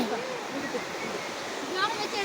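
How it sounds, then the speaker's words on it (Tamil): A river in Ooty running high after rain, its water rushing as a continuous broadband roar; a voice is heard faintly over it in places. "பாருங்க மழை பெஞ்சு ஆற்றுல தண்ணி எப்படி போகுதுன்னு பாருங்க."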